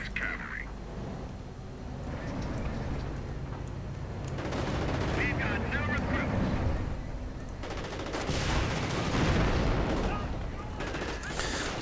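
Battle gunfire in the World War II strategy game Men of War, with dense rifle and machine-gun bursts and booming explosions rolling continuously under a commentator's talk.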